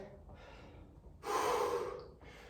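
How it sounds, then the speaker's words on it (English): Heavy, close breathing after a round of HIIT exercise, with slow rhythmic inhales and exhales and one long, loud gasping breath in the middle, alone without talk. "So slow the breathing down, nice deep breaths."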